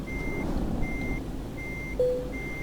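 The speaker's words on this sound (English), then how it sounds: "Oh, no more beeping." A reversing truck in Euro Truck Simulator 2 sounding a steady series of evenly spaced high beeps over a low engine rumble, with a brief hiss near the end.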